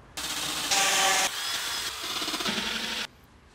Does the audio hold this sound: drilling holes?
yes